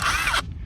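A cheap brushless cordless impact driver from Temu spins freely with a loud, close mechanical whir that cuts off abruptly partway through, leaving a faint low hum.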